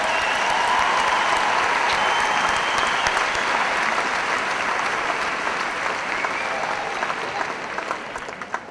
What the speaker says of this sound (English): Please help me in giving them a round of applause.